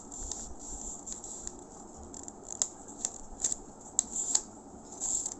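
Scissors snipping off the excess edges of folded paper for a paper infinity circle toy, a run of short, crisp cuts at close range with a few sharper snips toward the end.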